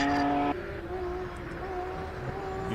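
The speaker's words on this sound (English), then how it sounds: "You feel the anti-lag in that car, and you feel it through your bones." Hillclimb race car with anti-lag system at a hill climb event, a loud engine note with steady harmonic drone and crackling pops from the exhaust, sustained close by without any talk.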